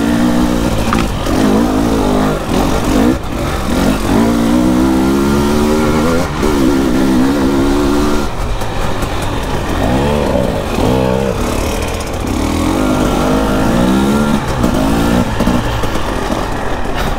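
A Husqvarna 300 two-stroke dirt bike engine revs hard and close, rising and falling in repeated throttle bursts and gear changes over a constant loud drone while riding.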